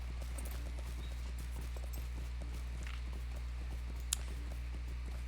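Horse hooves clip-clopping steadily in Lord of the Rings Online while riding on horseback, an even walking rhythm over a constant low game hum, with one brief sharp chime near the end.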